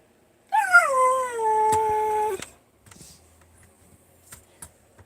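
A dog whines and howls to go outside inside a bus on a rainy day, one drawn-out rising and falling howl followed by softer whimpers and small scuffling sounds, close and fairly loud.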